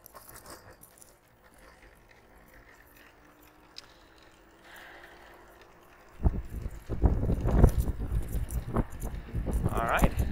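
A single-motor Mercane WideWheel electric scooter picks up speed. A soft, quiet hum gives way after about six seconds to a loud, steady rumble of road and wind noise that continues to the end.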